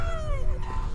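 Dogs whimper and whine in the There's Something In The Ice video game, several high wavering cries sliding down in pitch over a steady low rumble.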